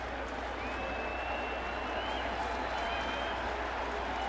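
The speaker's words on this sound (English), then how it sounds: "Crowd looking for the strikeout." Crowd at a Detroit versus New York baseball game at Yankee Stadium cheering for a strikeout, a sustained, distant roar of applause and voices holding steady under a faint background tone.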